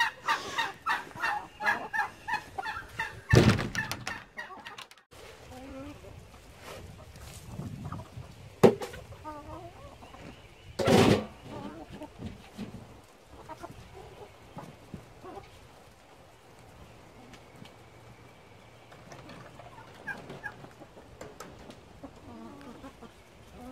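Chickens and turkeys around a feeding spot, with gobbling and clucking fowl calls scattered through, a few sharp louder bursts standing out over a steady outdoor background.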